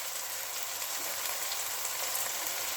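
Chilies sizzle and fry steadily in hot oil for a simple masala dish, a continuous bright crackling hiss close by with no talking.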